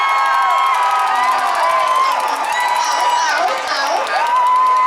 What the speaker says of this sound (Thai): ขอเสียงกรี๊ดดังๆให้กำลังใจเขตสองปทุมธานีดะครับ